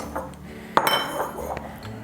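A blender jar top set down in a kitchen sink gives a sharp clink, followed by a few lighter rattles and knocks of dishware, close and fairly quiet.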